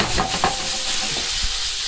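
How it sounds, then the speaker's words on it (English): A spoon stirs Dover sole in lemon butter in a frying pan, with a few quick scraping strokes over a constant close sizzle. "Give that a little mix around."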